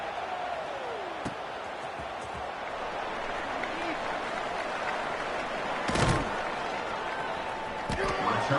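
Stadium crowd roaring in a college football video game during a Stanford game, a steady dense cheer with a few sharp bangs and a swell near the end, while a commentator talks over it.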